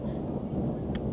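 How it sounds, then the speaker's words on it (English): Thunder rumbling during a thunderstorm with snow falling, a dense, steady low roar that fills the short moment at moderate loudness, with no voices. "It's a thunderstorm with the snow!"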